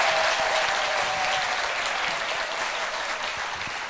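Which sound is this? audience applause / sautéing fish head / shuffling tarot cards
audience applause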